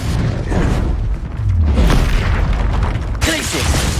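A Confringo fire spell detonating in Hogwarts Legacy on hard mode, a loud deep boom with rumbling burst amid combat sounds, while a voice speaks over the spell casting.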